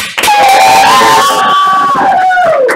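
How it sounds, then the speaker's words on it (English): A loud live game show studio audience cheers and whoops for a player, a dense, continuous roar of voices with rising shouts, close and filling the room. "we're going to applaud for everyone, but if you think that this player needs to win, then applaud for them a little harder"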